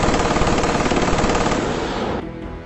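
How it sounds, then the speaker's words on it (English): Sustained machine-gun fire from an attacking enemy fighter in a B-17 bomber game, a loud, rapid continuous burst that runs nearly three seconds before dropping off abruptly. "The level bandit fires away"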